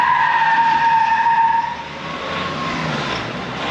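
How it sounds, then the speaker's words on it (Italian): Loud tyre noise from vehicles rolling aboard a ferry bound for an island: a steady squealing, skidding whine that holds for about a second and a half, then drops to a softer rumbling hum. "Non siamo abituati a sentire questo rumore delle gomme"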